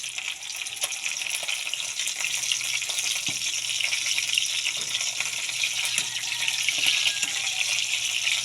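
Pan-fried milkfish (bangus) sizzles steadily in oil, a continuous bright crackling hiss that holds evenly throughout at close range, with no talking.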